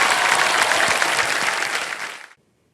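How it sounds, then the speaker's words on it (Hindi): Studio audience applause on the quiz show Kaun Banega Crorepati, loud and dense, then tapering and cutting off abruptly into silence near the end. "तालियां बज जाएं उनके लिए"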